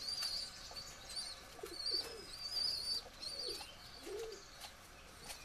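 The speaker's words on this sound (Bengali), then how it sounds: "এই যে এখানে আছে একটা সাহারানপুরি নাপ্তা, এই যে, আর এই যে টেডি।" Saharanpuri Napta pigeons in a breeding loft with paired cages coo in low, rolling bursts several times, mixed with thin high chirps from other birds, moderately close in a quiet room.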